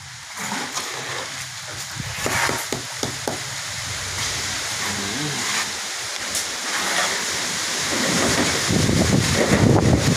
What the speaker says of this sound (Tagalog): Hindi talagang malakas ang hangin talaga dito.